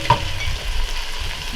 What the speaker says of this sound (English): Alright, we're sizzling here.